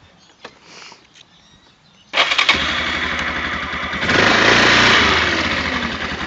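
A 2006 Yamaha Bruin 350 4x4 ATV sitting in gear and not moving, quiet at first, then its engine bursts into a loud steady rev that climbs higher midway and holds, close up.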